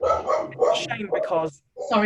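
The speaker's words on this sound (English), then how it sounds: "that's my dog. He's just joining in." A pet dog barks in bursts behind a person talking, the yaps partly buried under the steady speech.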